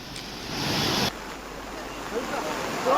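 The Bindal river in Uttarakhand, swollen after heavy rain, rushes in a broad, steady wash of water, with a louder surge near the start before settling into a continuous flow.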